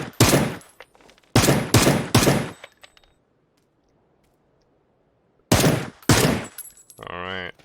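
Bursts of rapid automatic gunfire in a PUBG solo tournament match, loud and close, with two separate volleys split by a quiet gap and a tonal game sound at the end, under a commentator's voice.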